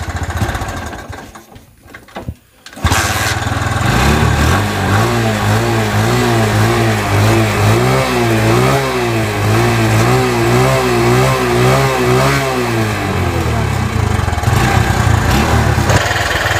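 A motorbike engine revs hard and continuously, its pitch rising and falling in repeated surges, loud and close, after a brief quieter start.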